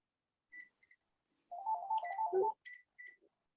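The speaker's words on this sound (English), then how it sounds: "Sorry, phone ringing." A vicarage telephone rings with short electronic ringtone bursts, a few chirping tones followed by a longer warbling melody and two more brief beeps, moderately faint in a quiet room.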